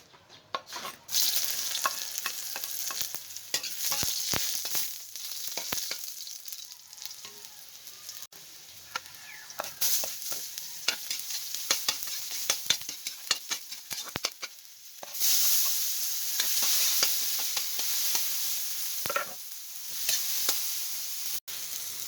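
Steady loud sizzling fills the scene as aromatics are sautéed in a pan for ginataang sigarilyas (winged beans in coconut milk), with scattered clicks and scrapes of stirring and no talking.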